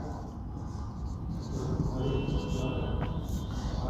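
Pen scratching across paper as a statement is written out, a steady soft scraping texture that runs continuously and grows a bit louder partway through, heard close with no talking.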